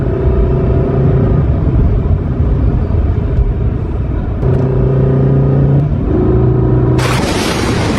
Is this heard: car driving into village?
yes